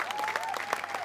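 Spontaneous, generous applause from an outdoor audience in Piazza Manzoni, Jesolo, a dense steady patter of clapping with a faint sustained tone running beneath it.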